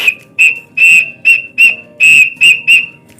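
Sawangan pigeon whistle sounding in short repeated bursts: about seven bright, piercing whistle tones, each roughly a quarter second, separated by brief gaps, loud and close with no talking.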